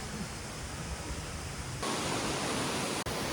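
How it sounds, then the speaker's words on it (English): A waterfall in Sri Lanka roars as a dense, steady rush of falling water, close and loud, growing fuller partway through and briefly cutting out near the end. "Check out this amazing waterfall."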